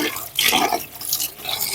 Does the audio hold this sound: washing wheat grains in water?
yes